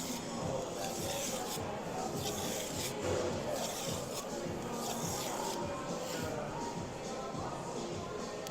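Misono UX10 knife edge stroked on a whetstone, a steady soft rasping and rubbing that continues without pause, quiet and close with a faint muffled voice underneath.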